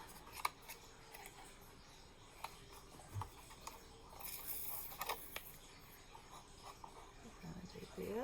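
Scissors snipping craft material for a Halloween project, faint scattered clicks and crisp snips at close range over a quiet background.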